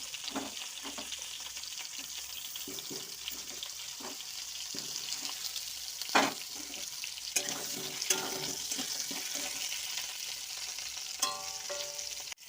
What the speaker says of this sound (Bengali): আমি কড়াই একটু তেল নিয়ে আলুগুলো ভেজে নেব